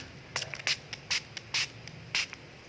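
NRA Beauty facial toner is sprayed onto a beauty cotton pad in several short, crisp hissing bursts from close up, separated by brief quiet gaps.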